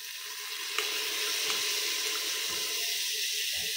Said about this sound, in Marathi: भिजवलेले तांदूळ घालायचे त्यामध्ये।